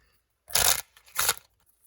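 A deck of prompt cards is shuffled close up in two quick riffling bursts, each a short crisp flutter followed by quiet.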